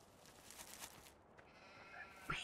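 Sheep bleating in a large sheep pen in Farming Simulator 17, several calls at moderate distance over a low steady background hum, without speech.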